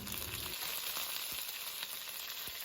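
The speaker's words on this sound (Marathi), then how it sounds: "तेल गरम झाल्यावर मोहरी टाकूया मोहरी चांगली तडतडली की त्यात पाच सात पत्ता टाकूया" Mustard seeds crackle and pop in hot oil, a steady sizzle broken by sharp, irregular little pops up close.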